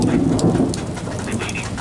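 Severe thunderstorm in Pittsfield, Massachusetts, with heavy rain pouring steadily and a low rumble of thunder underneath, loud and dense with no voices.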